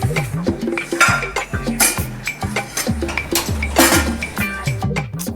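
Metal pans and utensils clatter and clink repeatedly on a stovetop while upma is being made, a busy run of knocks and scrapes over a low steady hum throughout.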